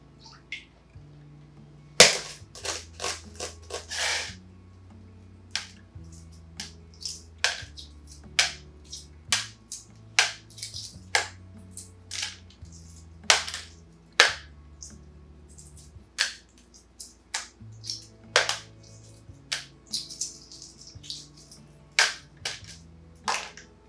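Sharp crackling snaps of hard-boiled egg shells being cracked and peeled by hand, about three dozen eggs, in irregular close bursts over a low background hum, near and crisp, with no talk.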